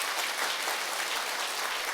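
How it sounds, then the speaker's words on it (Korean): An audience at a lecture claps together in a steady, even burst of applause for about two seconds, fairly soft and diffuse, with no voices over it. "이 정도 박수 가지고는 되질 않아요."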